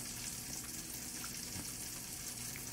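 Korean beef bulgogi dumplings frying in a pan, giving a steady, even sizzle throughout with no talking.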